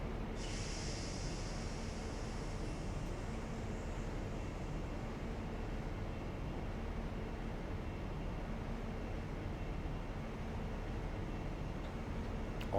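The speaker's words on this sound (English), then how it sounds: "Oh, I actually hear something. Oh, there we go. Another train." A train in the Train Sim Classic game, Western Mainlines Plymouth to Penzance route, passes with a steady broadband rumble and a brief hiss near the start, heard alone at moderate level.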